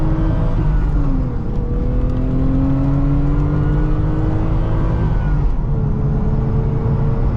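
A 1989 Vauxhall Carlton GSI 3000 24V engine revs loudly up through the gears, its drone rising in pitch, dipping at a shift, then climbing again in a continuous close roar.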